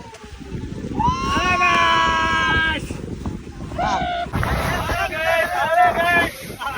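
A boat travels across open sea off Lakshadweep toward Kalpeni island. Steady wind buffeting and a hull rumble run underneath, while excited voices talk and exclaim loudly over them.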